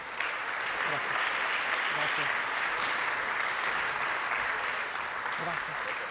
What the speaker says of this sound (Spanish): Despidamos a nuestros panelistas con un fuerte aplauso.